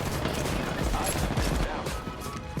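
Gunfire in a first-person shooter video game, dense bursts of rapid shots and blasts mixed with loud game noise, close and continuous throughout.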